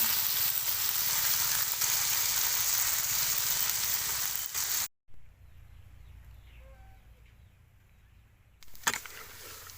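Tok Mol frying in a pan gives off a loud, dense sizzle that runs unbroken, stops suddenly for a few seconds of near quiet, then comes back briefly.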